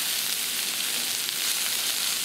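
Bison meatballs frying in a hot cast iron pan, a steady close hiss and sizzle with no talking.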